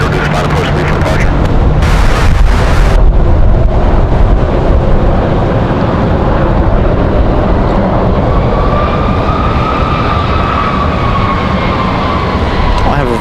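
An American Airlines E190 jet takes off on a windy day at Raleigh-Durham International, a loud steady roar of jet engines filling the whole stretch with rumbling wind noise, and a rising whine emerging toward the end.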